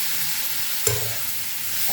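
Sliced potatoes and onions frying together in oil in a pan, a continuous close sizzle with a single sharp utensil tap partway through.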